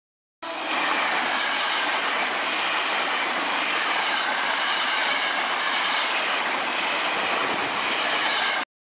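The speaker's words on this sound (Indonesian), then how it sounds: "Rangkaian gerbong kereta api yang setiap hari melintas di stasiun Palmerah dan Kebayoran Lama, Jakarta Selatan" A string of train carriages rolls through Palmerah and Kebayoran Lama stations in South Jakarta, a loud, continuous roaring rush that holds steady from start to finish without any voices.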